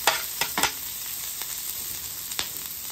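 Mushrooms and vegetables sizzle on a hot griddle in a steady soft crackle, with a few sharp scrapes and taps of a utensil stirring them and no talking.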